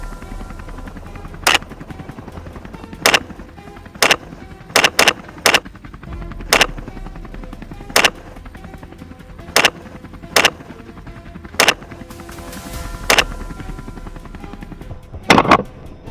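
Rifle shots from wild boar hunters ring out one by one across open grassland, loud sharp cracks at irregular intervals with a few in quick pairs, over a steady rumble of engine noise.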